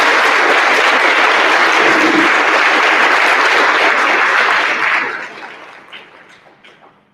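A school assembly-night audience gives a sustained round of loud, dense applause that holds steady for about five seconds, then tapers off to scattered claps and fades out.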